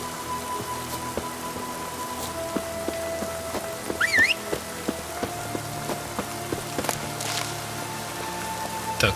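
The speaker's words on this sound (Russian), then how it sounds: "Кажется, дождь начинается." Rain falls steadily in the video game The Witcher 3: Wild Hunt, a dense hiss of drops on surfaces with scattered clear drips, a brief bird chirp partway through.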